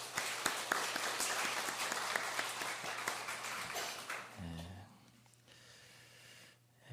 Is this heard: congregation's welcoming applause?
yes